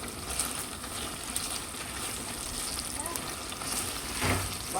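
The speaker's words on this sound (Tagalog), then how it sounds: "ito naman tocino ang akin pong niluluto" Tocino sizzles and crackles steadily in a frying pan while breakfast is cooked at home, a dense, even hiss with small pops throughout and no voices.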